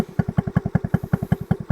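A scooter engine idles a little low, putting out a steady, evenly spaced putter of close, loud beats with a slight clatter and no talk over it.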